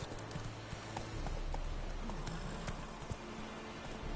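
Horse hooves clip-clop at a steady pace in The Witcher 3: Wild Hunt, faint and continuous with a few soft knocks over a low background bed.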